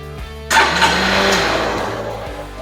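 A Honda CBF125 motorcycle with a flat battery is jump-started from a boost pack; after a short crank the engine catches and settles into a loud, steady close idle that fades slightly by the end.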